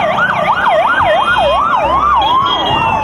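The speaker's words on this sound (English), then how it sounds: "Wow, this is a ambulance car." A toy ambulance's electronic siren wails steadily and loud for about three seconds in a rapid, repeating up-and-down sweep, close to the microphone with no talking over it.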